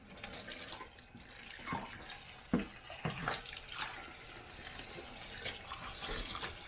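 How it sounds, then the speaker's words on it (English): Garden hose filling a 5 gallon plastic bucket for a soil-free hydroponic setup, a faint, steady trickle and splash with a few sharp knocks and clunks along the way. "You got the hose, we're gonna start filling."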